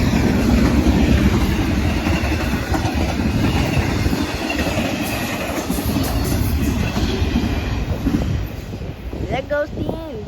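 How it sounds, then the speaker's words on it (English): A long Norfolk Southern double-stack freight train rolls past, loud and close with steady rumbling and clickety-clack of wheels over rail joints, wind buffeting the microphone and people talking briefly near the end. "There goes the end of a long train."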